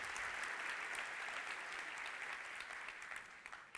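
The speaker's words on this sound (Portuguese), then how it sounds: "Está muito fraco o teu aplauso aí" A church congregation claps in sustained, dense applause that holds steady for several seconds, then thins into scattered claps at the end, heard at a modest distance.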